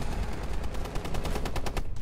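Rapid automatic gunfire from the Rainbow Six Siege video game, a dense continuous stream of shots over roughly two seconds with steady loud bursts and no talking.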